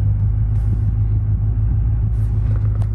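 Steady low rumble of a car being driven, a constant road and engine drone from inside the cabin with no talking.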